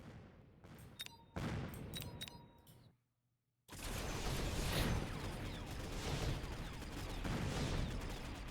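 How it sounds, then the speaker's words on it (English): A missile strike in a video game, with brief tonal blips and a sharp hit before a moment of near silence, then a sustained heavy rumbling blast and crackling fire that rolls on loudly to the end. "Missile strike."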